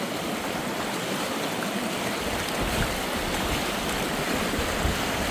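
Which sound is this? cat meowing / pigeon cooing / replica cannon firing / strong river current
strong river current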